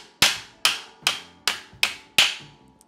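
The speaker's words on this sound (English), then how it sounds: "hold it in place, and strike a couple times to punch through" A hammer strikes a metal punch five times in a steady rhythm, driving it through a metal disc; each sharp, ringing clank is loud and close, with no talking.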